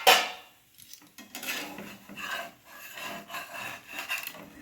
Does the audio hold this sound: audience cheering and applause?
no